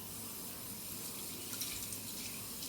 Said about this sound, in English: the broth of the chicken, we're going to pour into the dough